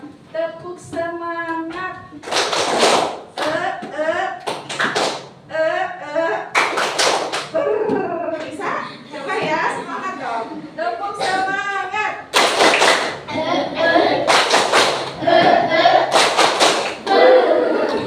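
Pupils in a classroom clap the rhythmic tepuk semangat cheer together, dense bursts of hand claps in patterned groups, loud and close, mixed with children's chanting voices and a teacher's speech.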